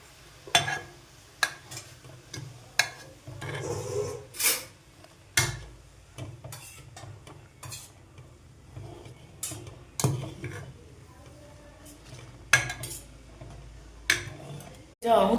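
Maggi noodles with masala stirred in a pan, sharp scraping clicks and taps of a spoon against metal at irregular intervals, with a soft sizzle between them.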